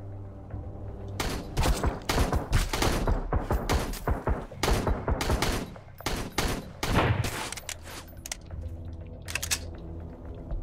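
Rapid rifle gunfire in the Sunkenland survival game, dense bursts of loud sharp shots crackling in quick succession, pausing briefly before another volley and a few final scattered shots.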